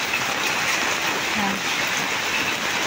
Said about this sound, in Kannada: ಇಲ್ಲಿ ನೋಡಿ ಮಳೆ ಹೆಂಗೆ ಬರ್ತಾ ಇದೆ ಅಂತ